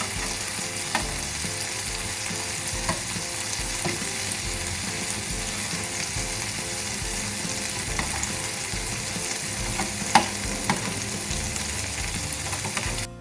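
Pieces of chicken fry in a pan and are turned over, giving a steady, dense sizzle throughout with occasional clicks and scrapes of the utensil.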